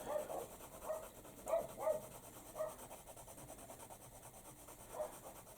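Dogs bark somewhere outdoors, a handful of muffled, distant barks in loose bursts with pauses between, faint against a quiet background.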